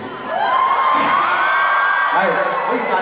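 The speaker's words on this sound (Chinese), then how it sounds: "大家係可以歡呼尖叫" A concert audience at a Cantopop live show cheers and screams: a loud, dense crowd roar with rising whoops and shrieks that carries unbroken across the whole stretch.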